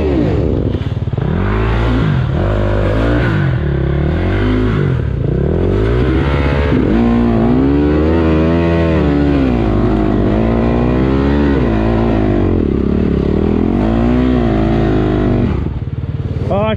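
A loud engine revs up and down repeatedly in long surging bursts, labouring hard with rattling clatter, continuous and close, as tires spin in mud during a woods race.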